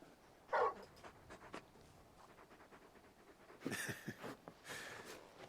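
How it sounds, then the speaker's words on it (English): A big dog in the video game Final Fantasy XVI pants quietly in short, soft breaths over a faint background, with a few louder rustling bursts near the end. "You're just a big puppy, aren't you? A very big puppy."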